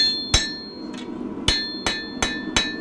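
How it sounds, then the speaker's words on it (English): Hammer blows ring on hot steel as a katana blade's bevels are forged, five or six sharp loud metallic strikes at an irregular but steady pace, close and alone. "what I'm doing is forging in the bevels,"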